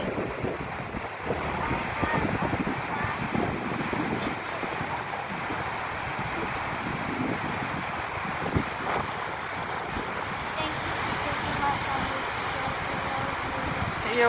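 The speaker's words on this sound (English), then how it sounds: "I actually enjoy this, how the waves hit the rock" Ocean waves breaking against rocks along a shore with sandy beaches, a steady roaring wash of surf mixed with wind buffeting the microphone, continuous and fairly even throughout.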